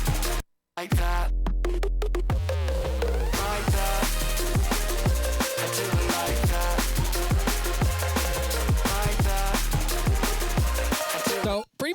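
Final drop of an electronic dance track, loud and dense, with heavy pulsing bass, punchy drums and bright synth chords driving steadily, cut by a brief gap of silence near the start and ending abruptly.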